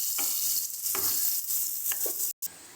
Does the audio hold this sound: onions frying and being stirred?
yes